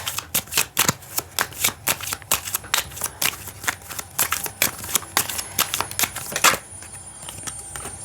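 Tarot cards shuffled by hand during a love reading, a brisk run of close, crisp riffling bursts in steady rhythm, then a brief quieter stretch at the end.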